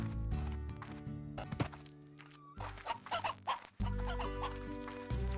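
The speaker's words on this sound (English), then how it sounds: "Lots of chickens around." Chickens cluck in the video game Slime Rancher, several short clucks and squawks scattered over steady game music with a few soft thumps, no talking.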